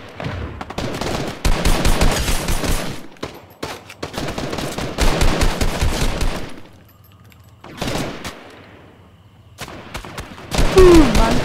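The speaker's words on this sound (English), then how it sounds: "Man's got a burst assault rifle." Burst assault rifle fire in Fortnite rattles out in several loud rapid bursts separated by brief pauses, close and sharp, with a voice speaking briefly near the end.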